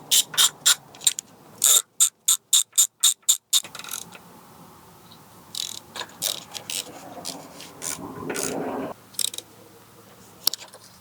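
A ratchet wrench works the Allen bolts on a Yamaha R6 motorcycle, with sharp rapid clicking strokes in quick bursts, a pause, then scattered softer ratcheting and rubbing up close.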